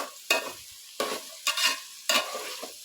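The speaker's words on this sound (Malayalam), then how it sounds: "എണ്ണയിലിട്ട് തന്നെ ഞാൻ ഉരുളൻകിഴങ്ങ് മെഴുക്കുവരട്ടിക്ക് വേവിക്കത്തുള്ളൂ" Potato pieces frying in oil for a Kerala potato stir-fry, with four distinct scraping stirs of a spatula over a quiet background sizzle.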